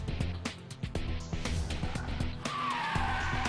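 A Smart Forfour Brabus with a turbocharged four-cylinder engine drives at a car event, its engine revving amid tyre squeal, clatter and sharp bursts of activity, with some crowd noise in the background.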